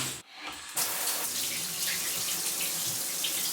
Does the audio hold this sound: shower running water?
yes